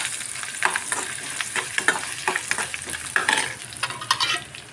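Tempering spices sizzle and crackle in hot oil for green chili coconut chutney, with irregular popping bursts and a steady frying hiss, close and moderately loud, no talk.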